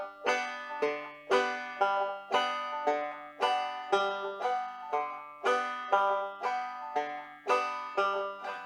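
A banjo is picked in Scruggs style with a pinch pattern, producing bright plucked notes in a steady rolling rhythm. Each group of notes rings out and decays before the next one starts, with no voice over it.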